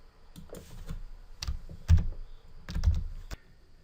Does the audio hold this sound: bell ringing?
no